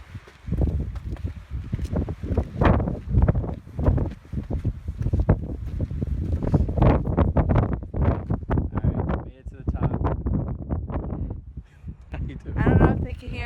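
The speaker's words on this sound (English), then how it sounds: "I don't know if they can hear us over the sound of the wind, but the view is spectacular." Strong wind buffets the microphone at a mountaintop viewpoint above Crater Lake, a loud, continuous gusting roar that swells and dips throughout, with people talking over it close by.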